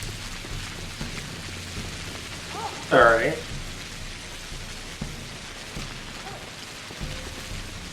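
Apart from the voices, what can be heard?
rain effect in the video game Pathologic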